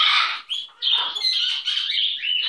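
A pet bird gives loud, close, shrill chirps and squawks in quick bursts, with short pauses between calls and no talk.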